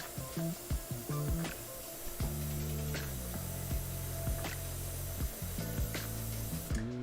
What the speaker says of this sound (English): Let me hit this with the airbrush.